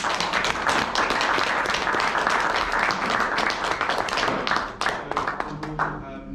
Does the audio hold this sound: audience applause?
yes